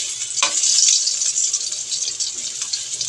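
Garlic frying in oil for Filipino sinangag garlic fried rice, a bright, continuous hiss and sizzle with a few soft knocks of a utensil, close and steady, no talking.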